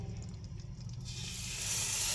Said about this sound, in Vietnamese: Đây em cho chảo lên bếp và cho vào đây một ít mỡ lợn rồi này.